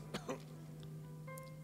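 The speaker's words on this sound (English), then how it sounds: "He's coughing without a mask." A male character in the Genshin Impact video game coughs twice in quick succession, short and close, followed by a quiet game music tone.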